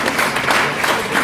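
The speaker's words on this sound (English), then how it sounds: "I think they deserve a big round of applause." An audience at a candidate forum gives a round of applause, dense steady clapping filling a short stretch, moderately loud and close.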